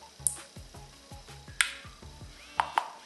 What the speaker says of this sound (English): and it's even the shutter sound.